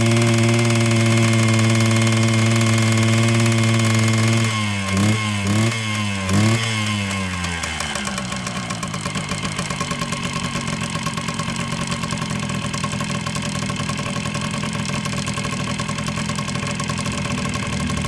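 A smoking Kawasaki two-stroke motorcycle engine with oil injection runs loud and close, idling evenly, then blipped through several quick revs that settle into a buzzy, raspy steady run.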